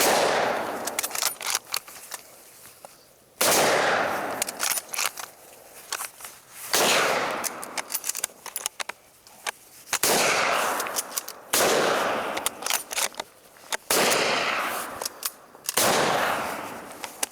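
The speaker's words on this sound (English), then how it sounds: "So far we've just shot the Mosin M44 and the Enfield" Rifle shots from a Mosin M44 and a Lee Enfield .303 British military surplus rifle, six or so loud, sharp reports spaced a couple of seconds apart, each followed by a long echoing decay outdoors.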